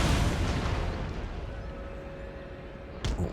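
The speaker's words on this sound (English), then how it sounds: "We'll just warm them up with the cannons then." Cannon fire in the strategy game Empire: Total War, a heavy booming blast that rolls off into a long rumbling decay, followed by a sharper second report near the end.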